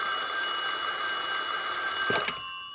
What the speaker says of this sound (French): J'imagine que Dave ne répond pas encore au téléphone